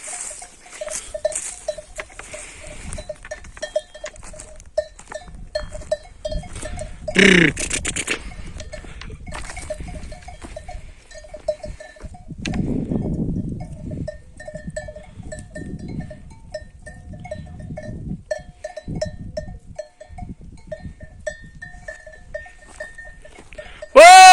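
A flock of sheep and goats bleating at intervals, with bells clinking and hooves pattering nearby, and a few brief human calls.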